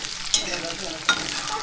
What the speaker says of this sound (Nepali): यहाँ फ्राई हुँदैछ मसला